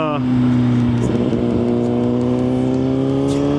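Highway traffic rushes past a Suzuki GSX-R1000 motorcycle riding along Highway 90, with a sustained engine drone that shifts pitch as vehicles pass, loud and close.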